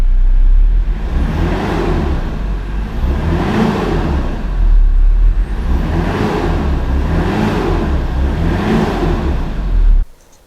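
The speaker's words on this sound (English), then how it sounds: "I'm just going to give it a few revs." A car engine revving up and down repeatedly in slow swells, close and steady, then cutting off abruptly at the end.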